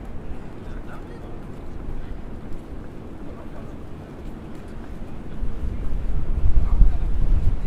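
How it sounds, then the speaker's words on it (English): Wind buffets the microphone in a steady low rumble by the World Trade Center in Manhattan's Financial District, growing stronger and gustier toward the end. "it's just got so much more windy here by the World Trade Center"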